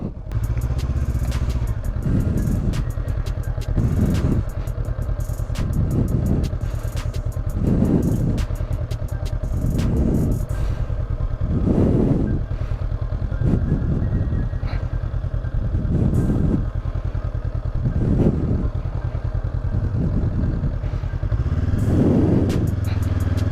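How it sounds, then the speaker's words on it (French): A motorcycle engine in the wrong gear runs continuously and loudly up close, its sound lurching and stuttering in a regular pulsing rhythm roughly every two seconds, as if straining unevenly. "la moto elle a boité. J'étais sur le mauvais rapport."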